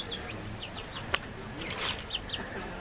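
A light brown hen clucks in a series of short, soft, repeated notes, with a single sharp knock partway through and faint rustling, heard close and alone.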